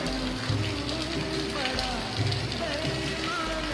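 Heavy rain falling, a steady hiss and patter of drops on surfaces with some low thumping, with a voice faintly mixed in.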